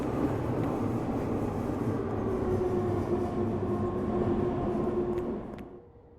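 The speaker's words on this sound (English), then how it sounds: "That sounded like the train was on the left to me." A train passes at night on a foggy railway, a loud sustained rumble and rail roar with a steady tonal hum that fades out near the end.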